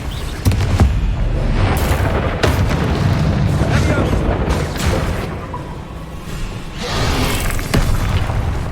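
Bombarda blasting spell in Hogwarts Legacy, a loud booming explosion with a sharp burst near the start, sustained rumbling blasts and further impacts at about seven and nine seconds during frantic spellcasting combat.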